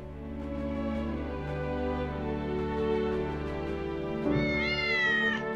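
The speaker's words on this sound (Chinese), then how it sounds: "一次生下了五只小猫咪。" A litter of five young kittens meows: thin, high, rising cries come near the end over a steady tonal background bed, loud and close.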